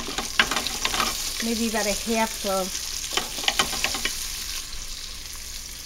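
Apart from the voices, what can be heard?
onions being added to the pressure cooker pot, sizzling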